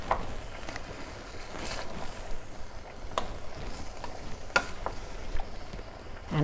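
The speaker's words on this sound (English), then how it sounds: "Just going to stir that all in." Vegetables such as sweet potatoes and red and green peppers being stirred into a pot of vegetable soup, with soft scraping and clinking of the spoon against the pot over a low background hiss.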